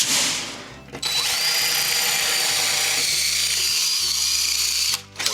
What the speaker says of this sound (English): what we're gonna do is drill through the stucco to get to the stud